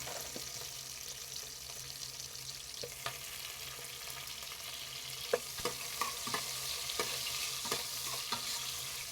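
Chopped tomatoes and onions sauté in a pan for sambar, giving a low steady sizzle with intermittent clicks and scrapes of stirring, close and fairly quiet.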